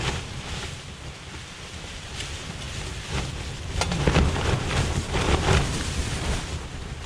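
Strong gusts buffeting an open mountain campsite on Dusungsan in Jeongeup during the rainy season, a broad roaring rush that swells louder midway, with wind noise hitting the microphone and no voices.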